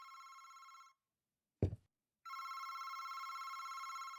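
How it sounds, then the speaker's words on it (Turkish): Electronic telephone ring from the video game August Night repeats in long, steady trills, broken by a short silence and a single low thud before ringing resumes. "Telefon. Telefon."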